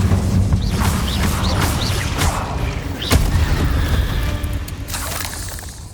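Incendio fire spell cast in Hogwarts Legacy, a loud rumbling burst with whooshing swells and a sharp crack midway, then fading toward the end, no voices.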